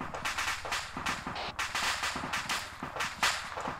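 Gunfire in the ArmA 3 video game: a rapid series of sharp shots and cracks, some bursts overlapping, fairly loud and continuous across the moment.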